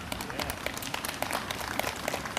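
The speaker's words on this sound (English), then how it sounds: "If you guys can applaud." An audience at a university international programs graduation ceremony claps for visiting students, dense overlapping applause of many hands, steady and moderately loud throughout.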